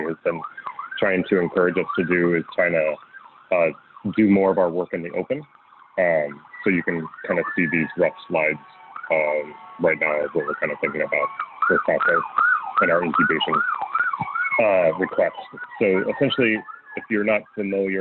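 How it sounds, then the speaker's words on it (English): A person talks steadily while wailing sirens rise and fall in the background beneath the speech. "I apologize for the sirens in the background"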